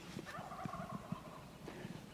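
Wild turkey gobbling in the distance during a spring hunt in Idaho, a faint rattling gobble heard over quiet outdoor background.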